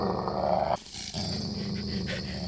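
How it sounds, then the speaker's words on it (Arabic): A dog growls in two low, rumbling stretches broken by a short pause, close and moderately loud, with no talking over it. "الكلب لحقني على السلالات"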